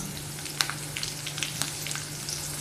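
Green chilies sizzle in hot ghee with a soft, steady crackle close by, dotted with sharper pops, and no one talks.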